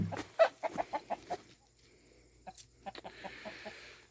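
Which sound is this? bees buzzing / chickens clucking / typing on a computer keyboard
chickens clucking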